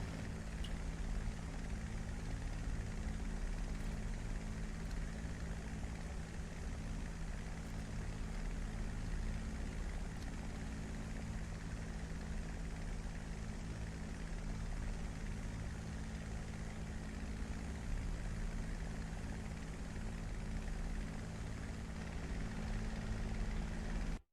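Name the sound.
Spitfire propeller engine in a flight simulator video game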